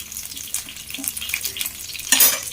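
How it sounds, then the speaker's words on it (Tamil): Fish fries in a pan over a bed of curry leaves, giving a steady soft sizzle with a few stirring clinks and a sharper burst of spattering near the end. "அந்த கருவேப்பிலை ஃப்ளேவரோடையே இது ஃப்ரை ஆகும்"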